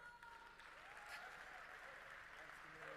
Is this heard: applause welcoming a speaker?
yes